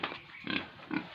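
Pigs on a pig farm grunt at feeding time while feed is poured, three short close grunts spaced evenly apart.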